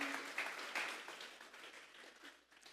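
Church congregation applauding together during a service, a steady wash of many hands clapping at moderate distance that gradually thins and fades toward the end.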